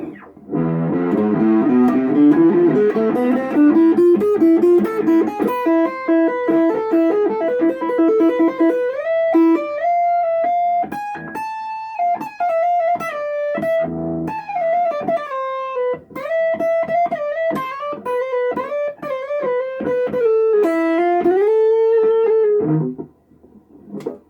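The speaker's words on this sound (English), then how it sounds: "Neck pickup, little distortion." Electric guitar, an Ibanez GAX 70 on the neck pickup with a mellow tone and light overdrive, sustained notes and bends ringing continuously for over twenty seconds, close and clear.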